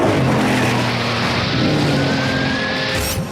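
A Bugatti Veyron launches off the line, its engine roaring loud and sustained as it accelerates, with a brief tire squeal.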